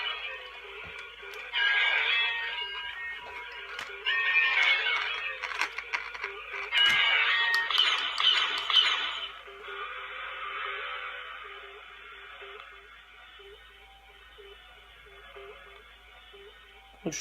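A Hasbro Star Wars The Last Jedi Canto Bight Police Speeder toy gives off electronic speeder sound effects, bursts of buzzy, crackling hiss that swell and fade over several seconds before dropping to a quieter steady drone.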